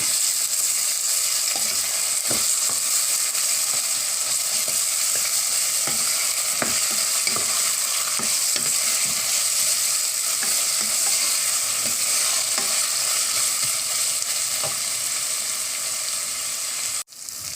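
Onion and ginger garlic paste sautéing in a pan, giving a steady, loud sizzle throughout, with occasional soft scrapes of a stirring spoon.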